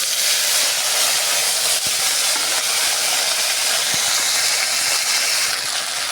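Ground spice paste, including ginger paste, sizzling in hot oil in a pan while cooking Bengali dhokar dalna: a loud, steady, bright hiss runs unbroken throughout, with no talking.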